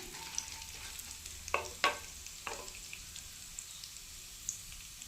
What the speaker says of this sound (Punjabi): ਸੌਂਫ ਤੇ ਰਾਈ ਇਹਨਾਂ ਨੂੰ ਪਾ ਕੇ ਹਲਕਾ ਜਿਹਾ ਇਹਨਾਂ ਨੂੰ ਭੁੰਨ ਲੈਣਾ ਹੈ